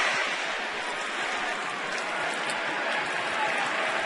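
Phillies fans in a baseball stadium crowd during a late-season road game in Washington, a dense continuous roar of cheering and chanting that fills the whole stretch without a break.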